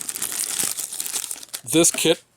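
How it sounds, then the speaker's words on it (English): Plastic packaging from a car model kit crinkles and rustles up close for a second and a half before a person starts speaking over the end. "sorry for the rustling"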